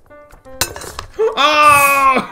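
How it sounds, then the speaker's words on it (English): Ceramic vase smashing in Untitled Goose Game: a sharp crash with clinking shards, followed by a loud honk-like tone, all close and brief. "We got the vase broken."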